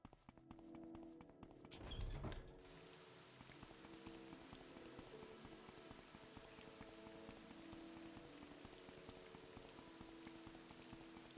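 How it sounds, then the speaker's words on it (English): Steady rain patters in Morrowind's countryside, a soft continuous hiss of drops on the ground with a brief low thump early on, faint and unbroken for the full stretch. "It's a nice rainy day,"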